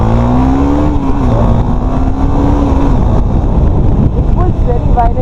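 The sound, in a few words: KTM Duke 250 motorcycle accelerating while riding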